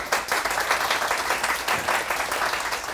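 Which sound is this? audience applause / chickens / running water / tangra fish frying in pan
audience applause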